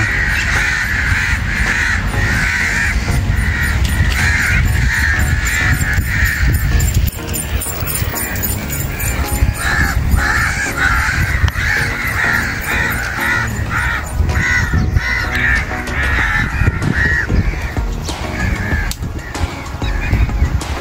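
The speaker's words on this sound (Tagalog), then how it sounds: "Dami nga naman uwak" A large flock of crows caws continuously and overlapping, harsh repeated calls from many birds near and far, with no talk over them.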